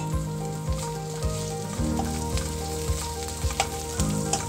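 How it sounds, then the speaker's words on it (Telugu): Onions that have turned brown sizzle and fry steadily in a pan with coriander and mint added, with occasional stirring clinks against the pan and no voices. "సో ఇప్పుడు మన ఆనియన్స్ బ్రౌన్ కలర్ లో మారిపోయినాయి కదా, చక్కగా ఫ్రై అయినాయి."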